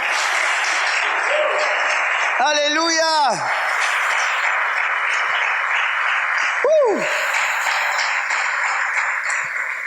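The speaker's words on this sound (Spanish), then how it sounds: "Den un aplauso al Señor." Steady congregation applause at a church service fills the whole stretch, with a preacher's voice shouting out over it twice.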